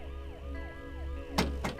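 An ambulance siren wails in a steady repeating rise-and-fall pattern throughout, fairly loud, with a couple of sharp bangs near the end.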